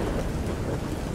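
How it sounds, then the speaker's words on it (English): Thunder rumbles steadily beside a witch's tower in a storm, a dense, loud wash of noise with rain-like hiss and no voices. "The tower has bloody lightning coming from it."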